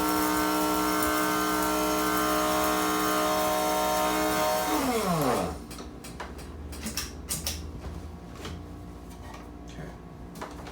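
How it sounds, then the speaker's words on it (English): A food processor grinds bay leaves toward a fine powder for one-pan jambalaya: a loud, steady motor whine that winds down and stops about halfway through, followed by quieter ticks, taps and handling noises. "What we need to do here is grind it down to a fine powder to get those bay leaves"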